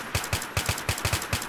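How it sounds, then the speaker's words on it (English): Rapid repeated gunfire in Minecraft Hunger Games, about nine evenly spaced shots in a steady quick rhythm, close and moderately loud, with no voices. "Hey, I'm shooting you."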